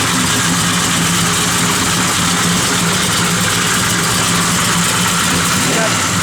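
A 1972 Chevrolet Chevelle convertible idling with a steady, loud low rumble that fills the whole stretch, close by and unbroken.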